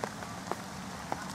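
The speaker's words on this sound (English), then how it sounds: "it just started raining now" Rain pattering on a pond's surface during a carp fishing session, a steady soft hiss with a few sharper drop taps, heard alone and fairly faint.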